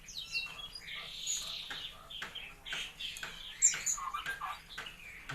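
Yuhina, a bird species endemic to Borneo, sings a lively run of high, bright chirping notes close by, the phrases tumbling over one another almost without pause, with no talking.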